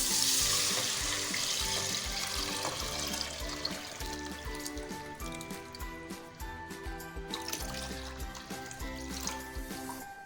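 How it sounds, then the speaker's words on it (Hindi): Gram flour batter is poured into a pot of kadhi and stirred in, with steady liquid sloshing, spoon scraping and a soft simmering hiss, faint and continuous without talk. "अब हम इसमें ये बेसन जो हमने घोल के रखा था ये ऐड करेंगे।"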